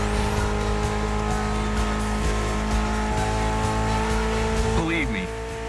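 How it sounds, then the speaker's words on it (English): A Mitsubishi inline four-cylinder of about 280 horsepower in the racing game The Crew Motorfest, giving a loud, steady engine drone with a squealing tire sweep near the end as a voice talks over it. "Mitsubishi gave us a nice inline four-cylinder with already 280 horsepower."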